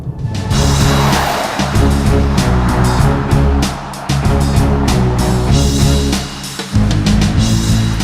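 A BMW X5 cruising at high speed on a motorway, with a steady low engine and road drone mixed with rushing wind noise, loud and continuous with brief dips.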